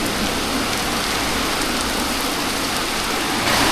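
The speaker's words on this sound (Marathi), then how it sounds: "आता फायनली पाऊस सुरू झाला" Steady rain falls after a hot, sunny day, a dense, even hiss of drops hitting surfaces that holds throughout and swells slightly toward the end.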